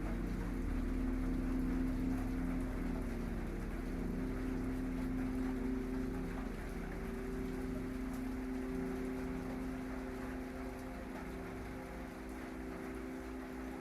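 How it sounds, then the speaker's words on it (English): Steady rain falling and pattering on surfaces, a continuous even hiss with a low rumble and faint tonal hum underneath, constant throughout with no voices. "the goddesses now are whispering to us through the sound of the rain"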